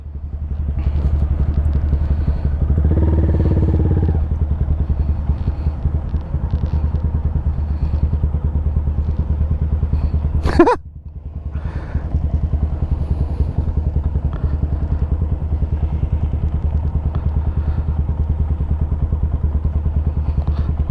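A big motorcycle running steadily at speed during emergency braking practice, engine drone holding strong before a sharp thud and brief clatter as it brakes hard, then settling back to a lower steady engine hum.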